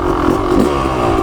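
A 1998 Yamaha YZ250 two-stroke dirt bike engine drones loudly and close for a brief moment, a rough, steady rasp with slight rises in pitch.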